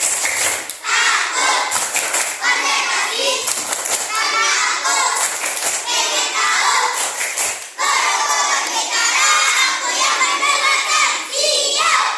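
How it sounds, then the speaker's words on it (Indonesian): A class of students performs group rhythmic clapping chants, tepuk semangat and tepuk konsentrasi, led by a teacher; bursts of patterned claps alternate with loud shouted children's chanting, pausing briefly partway before resuming. "kita berikan tepuk semangat dulu, tepuk konsentrasi"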